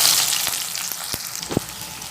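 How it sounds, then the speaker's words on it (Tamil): Sliced onions fry in hot oil for a vegetable dum biryani, a close, steady sizzle with a few crackling pops over about two seconds. "இதை இப்போ நம்ம எண்ணெயை காய வச்சு பொரித்து எடுத்துக்கலாம்."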